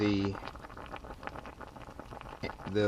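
Engine coolant boiling inside the open thermostat housing of a Jeep Cherokee XJ after running, a steady close bubbling and popping patter with a voice speaking over it at the start and end.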